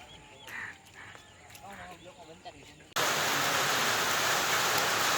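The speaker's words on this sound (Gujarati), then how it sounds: "ફૂલ વરસાદ આવી રહ્યો છે" Steady, loud hiss of heavy rain starts abruptly partway through, after a stretch of quieter background with a few voices.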